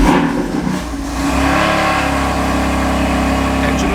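A BMW F80 M3 engine with its stock airbox reinstalled fires on a cold start, a loud steady rumble that dips briefly and then settles into a strong, even high idle close by.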